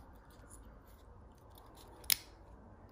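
Scissors flicked open on a Victorinox Outrider pocket knife, giving a single sharp metallic click against a faint, quiet background.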